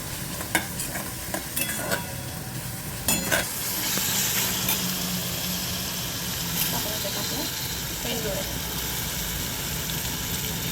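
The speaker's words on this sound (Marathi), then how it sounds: "आणि धने जिऱ्याचा फोडणी." Coriander and cumin seeds tempered in hot oil start with a few sharp clinks and stirs, then burst into a loud, sustained sizzle that hisses steadily to the end.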